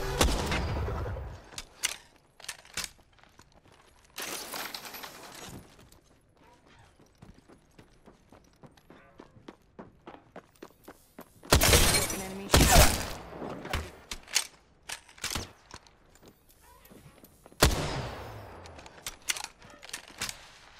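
Gunfire in the battle royale game Apex Legends, loud bursts of rapid shots and impacts scattered among quieter mechanical clicks and gear sounds, with several heavy volleys close by.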